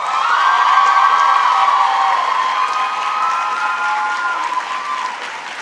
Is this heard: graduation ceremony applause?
yes